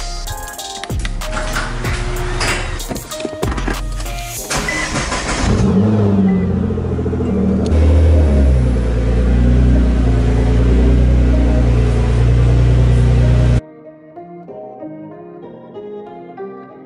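A Nissan GTR starts up and drives out of a garage: sharp clatter and cranking, then a loud engine catch and revving, a deep rumbling idle and pull-away, before the sound abruptly drops to quieter background tones.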